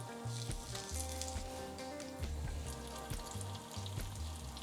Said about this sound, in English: We're gonna add these beautiful plantains into the butter.